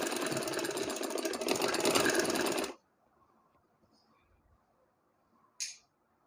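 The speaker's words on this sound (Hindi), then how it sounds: "ये पूरी यहाँ तक स्टिचिंग कर लें।" Sewing machine stitching cloth for cut-work sleeves, a fast dense mechanical whir running for a few seconds close by, then stopping abruptly into near silence with a faint click.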